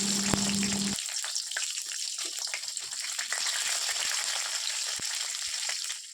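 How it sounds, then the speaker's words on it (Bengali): Nigella seeds and chopped green chillies hit hot oil in a pan, bursting into a loud, crackling sizzle that settles into a steady close-up frying hiss with scattered pops. "এবার তেলের মধ্যে দিয়ে দিলাম কালো জিরে, কেটে রাখা কাঁচা লঙ্কা"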